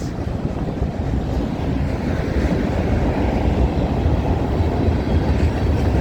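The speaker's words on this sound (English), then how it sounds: "Look at all those old Government of Canada hoppers." A CN freight train hauling old Government of Canada hopper cars rolls past at Milepost 2 on the Dundas Subdivision, a loud continuous rumble and clatter of wheels on rail with no talk.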